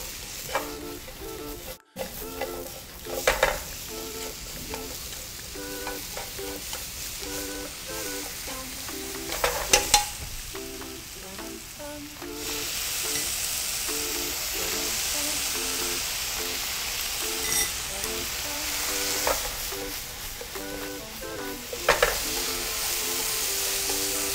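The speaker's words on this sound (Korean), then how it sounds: "또 볶아줄게요" Button and shiitake mushrooms sizzle in a hot pan with a continuous loud frying hiss, broken by periodic scraping and clattering stir strokes from a utensil against the pan, with no talk.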